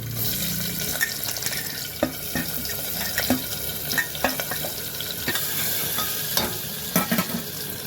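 Onions and green chillies frying and being stirred in a pan for a village-style snake gourd and potato curry, a steady sizzle with repeated scraping clicks of the spoon and some clatter, close and fairly loud.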